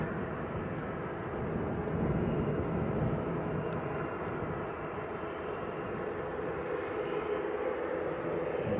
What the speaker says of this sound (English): we've got a Citation taxiing out as well at the moment